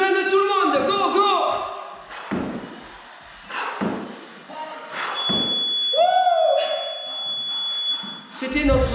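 A workout timer sounds a sustained electronic beep lasting a few seconds during a home cross-training session, heard under a coach's energetic French talk and scattered thuds.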